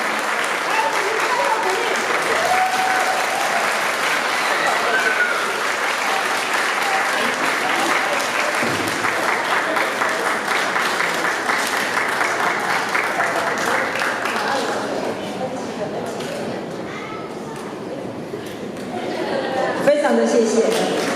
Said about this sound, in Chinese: 再次拍手来鼓励哈